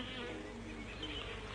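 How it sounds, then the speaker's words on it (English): A faint, steady buzz of bees in palace gardens drones continuously at low level, with no voices. "They kept their own bees, you see, millions of them."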